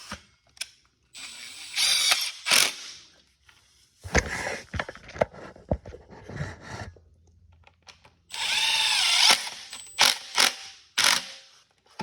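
A cordless driver with a T20 bit running screws into the motor housing of a Ryobi weed eater, several short whirring bursts with ratcheting clicks between handling noises, close and loud, including a longer final run.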